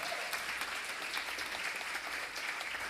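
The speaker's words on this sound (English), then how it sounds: "let's give them a little round of applause" A church audience gives volunteers a warm round of applause, dense, even clapping that holds steady throughout with no talking over it.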